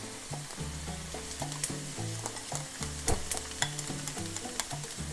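A full onion and a red pepper sizzle in a pan for tacos, a steady close frying hiss with scattered stirring clicks and scrapes, no voices.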